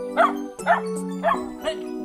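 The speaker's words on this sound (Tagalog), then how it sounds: "Palisin mo yung mga aso." Dogs barking near a rural home in San Jose, Baggao, Philippines: four loud, close barks in a quick, even rhythm, a short pause between each.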